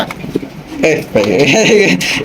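Large caged pigeons coo nearby in low, throaty bursts while someone talks over them.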